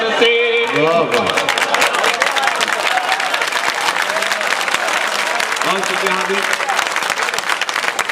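Dense, steady applause rolls through a crowd after a Hindi-Urdu poetry recital, loud and continuous throughout, with a voice speaking over it at the start and again briefly near the end.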